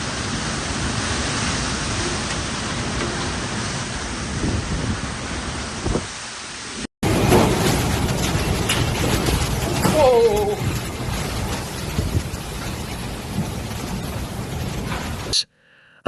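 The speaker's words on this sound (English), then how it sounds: "strong winds whipped rain aside and sent out flying debris" Typhoon rain roars with a broad hiss, interrupted by a brief cut, then continues with gusty, turbulent strong-wind noise and a few faint tonal sounds.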